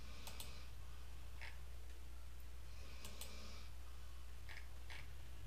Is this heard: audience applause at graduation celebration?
no